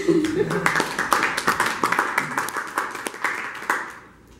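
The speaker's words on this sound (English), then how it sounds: "Well, clapping first." Audience applause after a tech talk on Ruby and Azure, a modest burst of individual hand claps, fairly close and uneven, with a voice briefly heard at the start before the clapping thins out.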